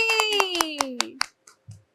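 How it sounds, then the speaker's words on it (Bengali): A few people clap for a contestant on a TV quiz show, a quick, evenly spaced run of sharp claps heard under a sliding voice, then tapering to a couple of scattered claps and quiet. "হাততালি"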